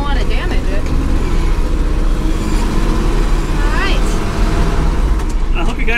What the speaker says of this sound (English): I hope you guys are picking up the sound of this truck